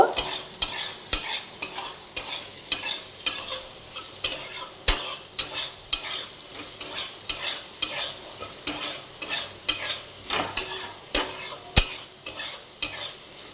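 Potatoes fried with spices get stirred in a pan in a steady, repeated rhythm of scraping spoon strokes, each stroke landing with a clink over a continuous crackling sizzle close by.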